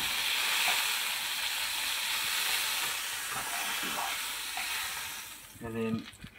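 Doughnuts frying in rock salt butter in a pan, a loud steady sizzle close by with faint stirring, ending in a few clattering knocks.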